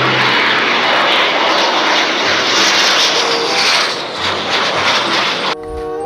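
A loud JetBlue jet airplane engine roars steadily nearby, a broad continuous rush that swells slightly, then drops off near the end.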